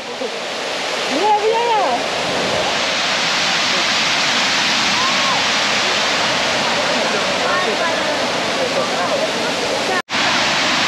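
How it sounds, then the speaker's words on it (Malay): The waterfall at Lantai Penyel pours as a loud, steady broadband rush of water that fills the whole stretch. Faint birdsong sits underneath it near the start, and the roar cuts briefly near the end. "air terjun Lantai Penyel."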